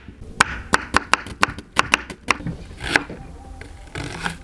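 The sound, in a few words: knife chopping onion on a board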